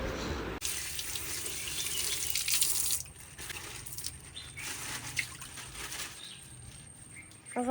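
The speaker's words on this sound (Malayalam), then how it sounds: "സോപ്പിട്ട് കഴുകിയിട്ട് വെക്കുകയാണ് കേട്ടോ" Tap water runs steadily into a kitchen sink while something is washed with soap, a continuous splashing stream with brief changes as hands move under it, with faint birdsong in the background.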